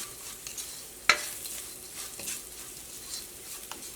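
Turmeric powder frying in a pan while cooking an egg roast, a faint steady sizzle with one sharp clink of a utensil and light stirring scrapes.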